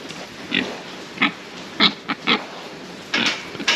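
Pigs in a farm pen grunt and oink in short, scattered bursts, several close snorts and squeals rising over low rustling with no talk.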